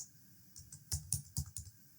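Computer keyboard keys typed to enter a prompt, a quiet cluster of soft clicks and taps building to several sharper, louder strokes near the end, with no voices.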